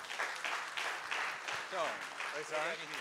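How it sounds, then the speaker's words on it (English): Crowd applause after a speaker is introduced at a Bitcoin convention in Berlin, a soft, scattered patter of clapping that a voice soon talks over. "Vays, a big round of applause."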